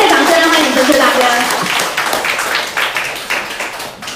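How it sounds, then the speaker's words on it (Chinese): A seminar audience claps to welcome a speaker to the stage, a dense burst of applause that thins out over a few seconds, with people talking over it. "我们热烈掌声欢迎陈彻大哥。"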